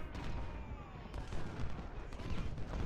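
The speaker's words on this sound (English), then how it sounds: "We continue to fire at the Texas Brigade." Rifle gunfire from Civil War brigades in Ultimate General: Civil War, a dense crackle of overlapping distant shots and booms rolling on without pause.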